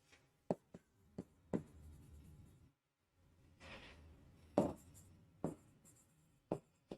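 Marker strokes on a classroom board come as short scratchy squeaks and taps in uneven bursts, separated by brief pauses and soft rustling, in a quiet room.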